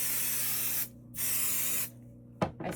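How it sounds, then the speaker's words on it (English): Two sustained hissing bursts from a spray bottle misting the top of a craft piece, each about a second long with a short pause between, followed by a brief clatter. "spray the top"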